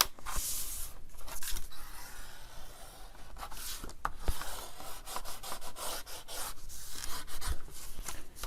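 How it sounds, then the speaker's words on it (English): A folded paper flap is burnished with a steady, close rubbing and rasping against paper, quiet and continuous with small tapping bumps, and no talking. "And then you're going to fold that, and then you're going to burnish it."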